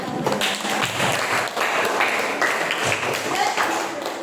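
Students in a classroom clap together for a group, a moderate patter of many hands that goes on steadily while voices talk over it.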